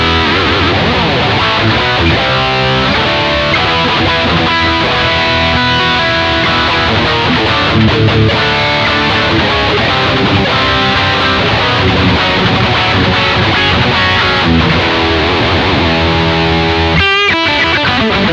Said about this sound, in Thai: คราวนี้ก็ข้ามมาเป็นเสียงแตกนะครับแรงๆตามสไตล์